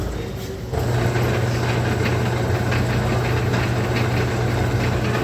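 A metal lathe runs steadily with a thread-cutting gear rig engaged on the headstock, giving a continuous mechanical hum and drone that steps up in level just under a second in and holds evenly to the end.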